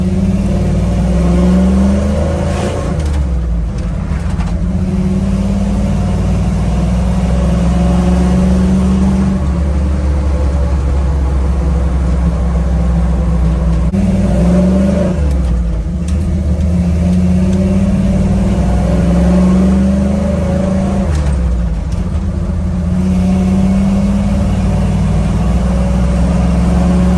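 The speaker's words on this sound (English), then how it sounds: "it sounds like it's revving a lot faster than it actually is because of the blended exhaust" A throaty Ford Bronco engine with a loud custom blended exhaust idles and revs repeatedly, the pitch climbing and dropping in several surges, close by and loud.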